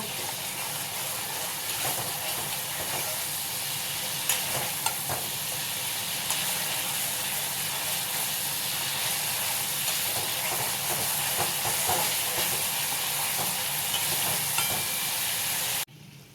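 Spices and masala for aloo dum stir-fry in oil with a loud, dense, steady sizzle and hiss lasting throughout, with faint ladle scrapes and no talking, cutting off abruptly at the end.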